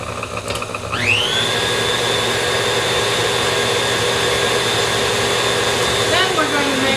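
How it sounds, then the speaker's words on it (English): An electric mixer whirs up to a steady high whine after a brief start, beating the wet ingredients for oatmeal chocolate chip cookie dough, loud and continuous with a slight dip near the end. "goes in the mixer first until everything is mixed thoroughly"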